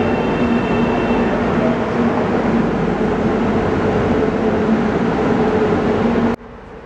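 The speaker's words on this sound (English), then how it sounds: "Waiting for the train so far." A loud, rumbling train roars past nearby with a steady rattling drone, then cuts off abruptly to quieter background.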